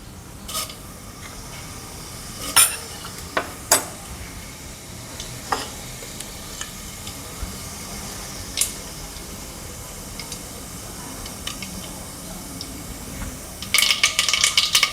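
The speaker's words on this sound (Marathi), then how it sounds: "मोहरी तडतडली की मी जिरं टाकणार आहे" Mustard seeds pop in hot oil in a pan as a spiced rice dish with ivy gourd is cooked, sparse crackles over a low steady sizzle that thickens into a denser burst at the end.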